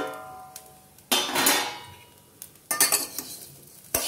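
A spoon stirring rice with jaggery in a metal pot, producing several scraping, clinking strokes separated by pauses, close and moderately loud with faint sizzling and no talk.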